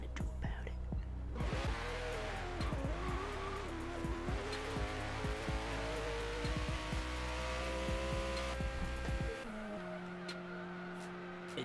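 A Tesla fitted with a Koenigsegg Regera engine in Forza Horizon 3 roars and revs loudly, pitch climbing through gear changes with tire squeal, then dropping abruptly to a lower idle-like drone near the end.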